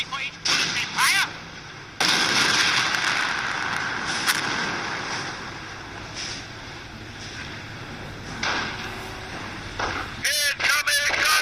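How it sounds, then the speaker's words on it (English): Gunfire in the Company of Heroes video game, set in the Alsace-Moselle area: sharp cracks and bursts over a windy, rushing battlefield backdrop, with game voices calling out between the shots. "Incoming gunfire!"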